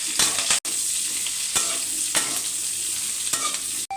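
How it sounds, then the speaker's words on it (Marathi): Green chillies roasting in a little oil in a pan, a steady close sizzle and crackle broken by a few scraping stirs and brief clanks, with no one speaking. "आता ह्याच्यात आपण घालायचं थोडं तेल आणि भाजून घ्यायचं."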